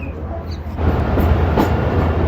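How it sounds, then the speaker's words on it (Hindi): The Tezgam 8 Down passenger train pulls out of Chaklala railway station, a low rumble that swells into a steady rolling roar of wheels and cars close by. "डिपार्चर हो चुका है चकलाला रेलवे स्टेशन से तेज़गाम 8 डाउन का"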